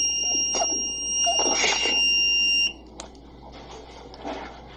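Piercing, high-pitched buzzer on an Arduino mask reminder device sounds continuously for about two and a half seconds and then stops abruptly, leaving faint background noise and small clicks.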